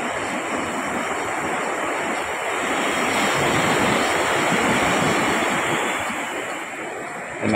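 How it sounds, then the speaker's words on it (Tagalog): Small ocean waves wash steadily onto the shore in a broad, continuous roar of surf, fairly close and loud, with wind across the microphone and no voices. "Nakikita naman po nyo, maliit ang alon."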